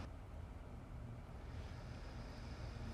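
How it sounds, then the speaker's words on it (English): Strong wind buffets the microphone outdoors beside an Xpeng G6 car, a continuous loud roaring rumble with no voices. "It is really windy."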